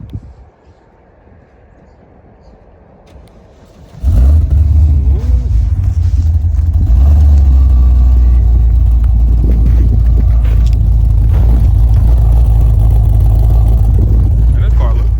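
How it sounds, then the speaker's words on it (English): A Cadillac CTS-V, parked in a snowstorm, fires up after a quiet moment, its engine catching with a loud burst and then settling into a deep, heavy rumble that stays strong and close for the rest of the time. "I'm gonna start it up again for y'all."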